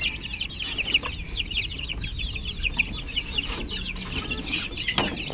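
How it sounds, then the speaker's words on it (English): A mother hen with two chicks in a backyard: rapid, high chick peeping runs continuously while the hen gives low clucks now and then, close by and with no talking. "So this is a female chicken, a mama hen with 2 chicks."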